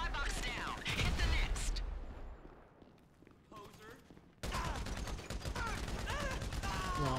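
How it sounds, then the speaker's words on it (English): Rapid gunfire bursts crackle through a firefight in GTA V, dense volleys at the start fading to scattered shots, then a fresh heavy barrage after a brief lull. "you ate a barrage of bullets"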